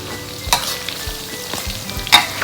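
Field rat stir-fried in a pan, a steady close sizzle and crackle of frying with a couple of sharper scrapes or clinks of the utensil standing out.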